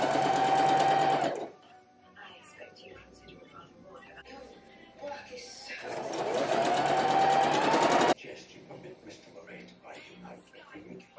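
Sewing machine stitching the bodice side fronts of a vintage-style dress to the center front, two loud bursts of rapid whirring separated by a quiet pause, with soft handling noise in between.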